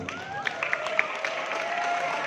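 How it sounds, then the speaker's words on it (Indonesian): Schoolchildren in a classroom clap for a classmate who comes to the front, with scattered, uneven claps rising over a murmur of voices. "kasih tepuk tangan buat temen kamu"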